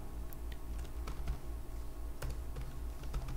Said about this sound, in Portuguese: Vou apertar um Enter aqui e vamos criar um comentário.